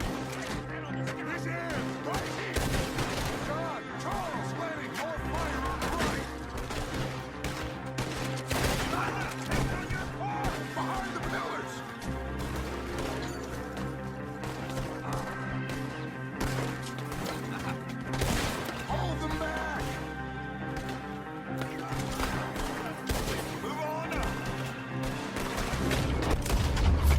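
Gunfire rattles in Red Dead Redemption 2 with dense volleys, cracks and booms in a chaotic firefight, mixed with game voices shouting under a layered backdrop.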